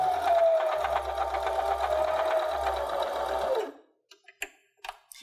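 A sewing machine stitches through batting on a sunglasses case, whirring steadily and fast at close range for several seconds, then stopping, followed by a few soft clicks and taps of handling.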